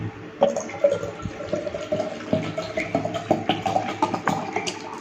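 Water stirred and sloshed as saline powder is mixed into it, a steady run of liquid swishes and light clinks close by, with no talking.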